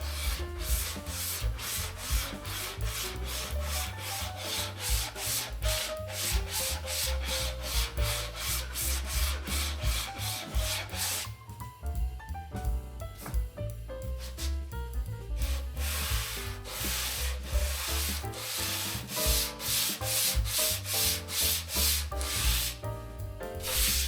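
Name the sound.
sanding wood by hand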